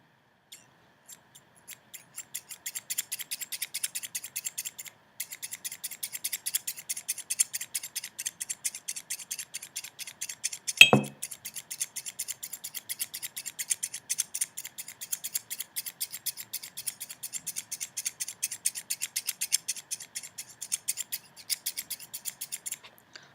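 Scissors snip through chunks of hair in a long run of rapid, crisp, close-up cuts, soft and steady throughout, with one brief louder thud near the middle.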